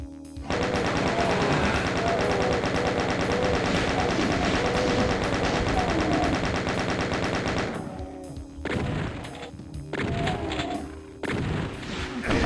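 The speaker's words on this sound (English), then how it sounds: "Let's pepper some bullets into this room." A sustained stream of rapid machine gun fire in the classic Doom game, loud and close, runs unbroken for several seconds before breaking into a few shorter bursts with gaps between them.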